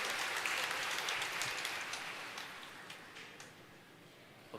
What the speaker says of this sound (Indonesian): Kita beri tepuk tangan sekali lagi untuk mereka berempat.